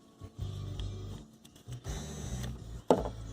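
Power window regulator motor on a 1995–2002 Firebird or Camaro, whirring in short, repeated bursts as it is bumped a little at a time, ending in a sharp clunk.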